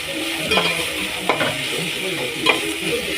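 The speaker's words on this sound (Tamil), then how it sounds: "தக்காளி லைட்டாக வதங்க விடுங்க நல்லா" Onion and tomato sautéing in a pan give a steady close sizzle, with a few louder stirring scrapes spaced through the stretch and no voices.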